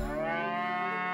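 A cow in the video game South Park: The Stick of Truth gives one loud, sustained moo that holds steady and fills the whole moment, with no talking over it.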